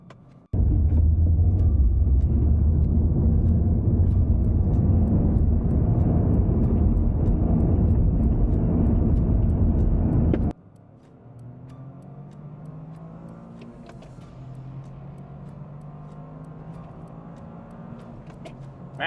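A 2023 Toyota GR Corolla launches on a circuit with a loud, sustained engine roar for about ten seconds, then drops to a lower, steadier engine drone as the car continues driving.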